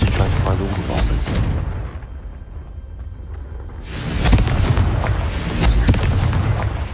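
Confringo spell explosions from a wizarding video game: a loud booming blast rumbling off into a lull, then fresh heavy bursts of explosive noise, close and powerful.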